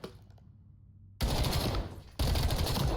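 Automatic gunfire in the video game Black Ops 7 with no recoil: after a quiet moment, two loud, sustained bursts of rapid shots, with a brief gap between them.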